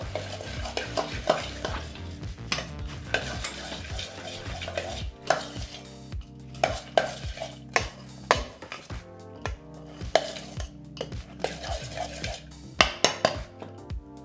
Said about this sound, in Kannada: ಈ ರೀತಿ ಸ್ವಲ್ಪ ಪುರಿನ ಸೇರಿಸಿ ಮಿಕ್ಸ್ ಮಾಡ್ಕೊಳ್ಳಿ.